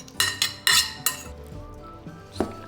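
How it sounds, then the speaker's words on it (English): Cooked vegetables tumble into a dish with a few sharp clinks of utensil against dish, followed by softer scraping and one more clink as they are mixed, close up and with no talk. "Dump in all those cooked veggies."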